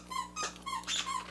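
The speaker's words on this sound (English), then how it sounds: "I apologize about my dog squeaking her toy." Repeated high-pitched rubbery squeaks of a dog chewing a squeaky toy, several quick bursts in a row, close by with no talking.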